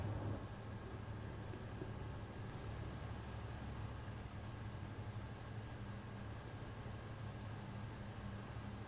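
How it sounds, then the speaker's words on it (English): A loud desktop computer cooling fan whirs in a steady, continuous broadband hum with a low drone, unchanging and close throughout, with no talking. "the fan on this computer is so loud sometimes"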